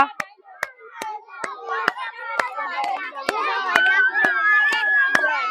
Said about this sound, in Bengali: সবাই করতালি সবাই করতালি